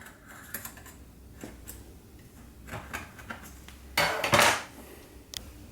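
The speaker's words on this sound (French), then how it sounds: "Alors, je m'aide d'un couteau." A knife trims a génoise sponge cake inside a cake ring on a plate, giving scattered light clicks and taps of blade on metal and a brief louder scraping burst near the end, close and without talk.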